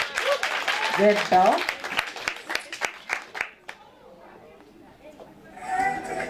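At a book launch, an audience breaks into applause and cheering over lively voices. The clapping fades to near quiet, then a fresh burst of crowd noise rises at the end.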